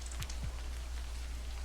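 Rain falls steadily in the video game Livber: Smoke and Mirrors, a soft constant patter and hiss with a couple of brief low splashes, quiet and with no voices over it.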